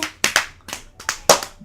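A person applauds in quick, uneven bursts of about six sharp, close hand claps, no voices alongside.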